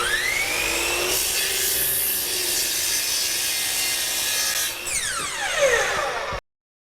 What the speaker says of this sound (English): I'm just going to take it to the miter saw and trim off the ends